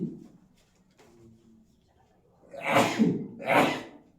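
Two loud sneezes in quick succession close to the microphone, preceded by quiet breathing and a soft intake of breath in an otherwise quiet room.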